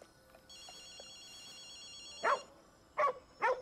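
A dog gives three short, loud barks in close succession after a stretch of quiet background tones.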